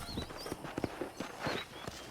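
Horse hooves in Red Dead Redemption clip-clop at a walk on a ranch, an uneven sequence of soft, close thuds over a faint ambient background with light bird chirps.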